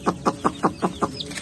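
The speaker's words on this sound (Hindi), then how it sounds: "गाइस, ये देखे हमारे चूजे केक खाते हुए।" Young chicks eating cake give a run of about six evenly spaced, close chirping calls, with no talk over them.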